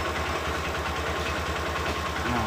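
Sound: Honda Verza motorcycle engine still idling with battery removed

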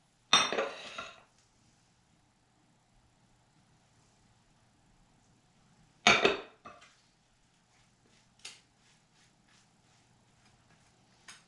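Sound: knife spreading butter on fresh baked bread

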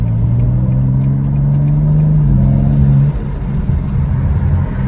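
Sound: BMW M4 (G82) AWD engine accelerating at half throttle

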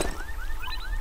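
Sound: alarm-like sound in a video game

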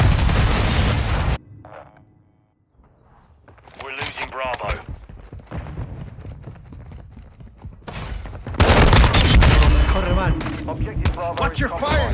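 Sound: grenade explosion and gunfire in a video game

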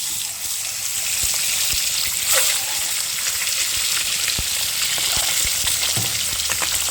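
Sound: eggs frying in hot oil

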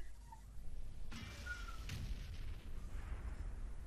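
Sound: M40/M43 artillery gun firing in World of Tanks video game

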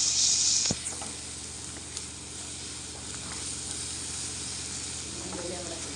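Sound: masala paste of garlic, ginger and spices frying in mutton curry

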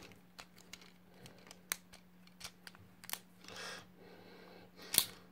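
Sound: ratcheting joints of Transformers Energon toys being transformed

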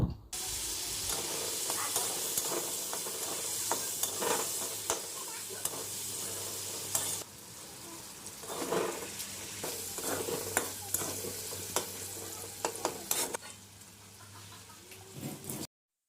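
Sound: potatoes frying with turmeric and salt, being stirred

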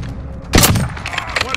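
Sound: stun grenade going off in Call of Duty: Modern Warfare video game

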